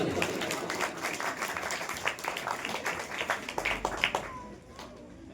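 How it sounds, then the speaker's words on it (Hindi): A crowd claps steadily for a child at a school prize-giving ceremony, dense applause that fades out near the end. "तालियां हो जाए इस बच्चे के।"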